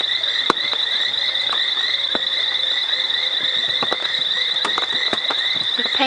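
Painted reed frogs call from a river at dawn in an African reserve, a steady dense chorus of high trilling notes with sharp clicks scattered across it, close and constant with no talking.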